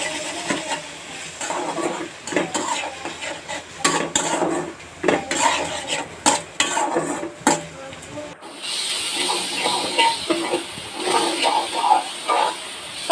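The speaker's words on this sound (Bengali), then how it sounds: "সবকিছু খুব ভালো করে নেড়ে চেড়ে মিশিয়ে নিচ্ছি।" A spoon stirs tomato mash in a pan, scraping and clinking against the metal in irregular strokes, close up, with a soft hiss or sizzle rising toward the end.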